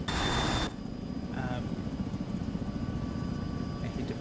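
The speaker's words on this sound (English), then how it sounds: "Nothing works. Whole helicopter's broken." Inside the Arma 3 video game, a helicopter drones with a steady rotor thump and a low engine rumble, close and continuous, while players talk over it.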